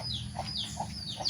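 Chickens cluck in a repeating pattern of short, rising calls close by at a farmyard in South Sumatra, Indonesia.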